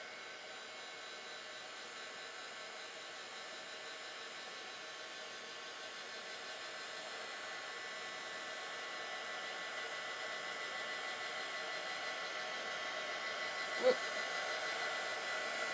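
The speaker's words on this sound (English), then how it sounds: "We're just heat gunning right now." A heat gun blows a steady, fairly quiet whirring stream of hot air over metal jewelry findings and charms, running continuously with a single small knock near the end.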